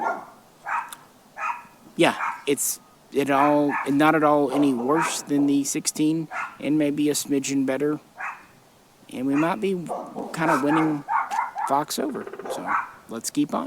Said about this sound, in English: sorry about the yappy dogs